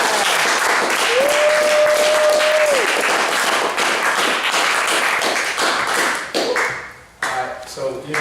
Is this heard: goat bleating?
no